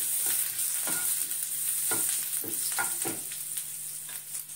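Cardamom and cinnamon go into a hot pan for paneer butter masala, giving a quiet continuous sizzle with light rhythmic taps and scrapes from stirring, close and without talk.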